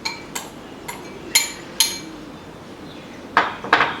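Utensils clink against a bowl while salsa salad for a raw vegan sandwich is stirred, giving a string of sharp, close metallic taps at an uneven pace, some spaced apart and a few quick pairs near the end.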